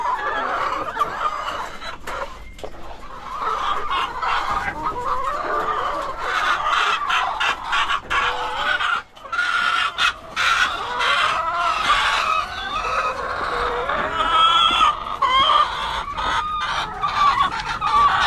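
Several chickens cluck continuously close by, with overlapping clucks and squawks and an occasional rooster crow in a farmyard.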